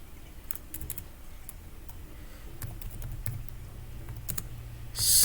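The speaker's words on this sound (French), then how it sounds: "Je tape ici, je dis par exemple bienvenue, je tape un H1 ou un H2" Light keystrokes on a computer keyboard in scattered bursts, close and quiet, with a brief louder noise right at the end.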